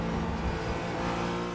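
A BMW GT4 race car in iRacing drives past with a steady, loud engine drone and a high whine that holds at an even level for the whole moment, with no voices over it.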